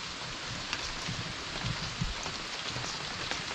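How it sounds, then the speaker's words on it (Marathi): Steady rain falls close by with a continuous soft hiss and scattered patters of drops striking surfaces, and no one speaks. "पावसानं बघा"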